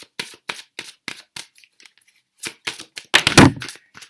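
A Romance Angel oracle card drops onto a microphone, heard as a sharp close thump amid a scatter of crisp card flicks and shuffling taps from a tarot reading.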